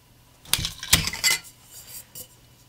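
A metal spoon stirs an Atomic Toast cocktail in a glass, giving a handful of bright, close clinks and taps spread over a couple of seconds, with quiet gaps between them.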